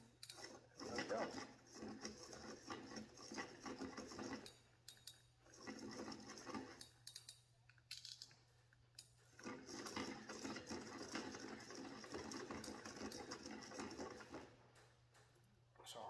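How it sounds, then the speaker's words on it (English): Fishing line is wound onto a Penn Fierce III spinning reel in a steady, whirring reel rotation that runs in long stretches with brief pauses, close by and moderately quiet, with a low constant hum underneath. "pretty much that is how I spool my reels"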